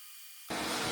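A hot air rework station heats a circuit board from underneath at 450 degrees Celsius and 50% airflow: near-silence, then an abrupt, steady, close hiss of rushing air that continues to the end.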